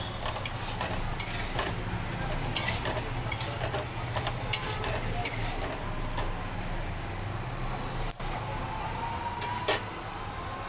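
Stirring bottle gourd and prawn curry (lau chingri ghonto) in a pan on a gas flame: soft scraping and clinking of a spoon against the pan at a steady pace, with a low background hum throughout.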